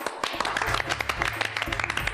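Audience clapping for a writer being honoured at a stage function in a Hindi comedy, a dense burst of handclaps with a low voice or music running underneath.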